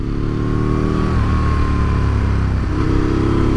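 Bored-out 1000cc twin engine of a roughly 20-year-old Aprilia RSV Mille motorcycle, close and loud, holding a gruff rumbling idle-to-mid rev with small pitch dips and rises across several seconds, no talking.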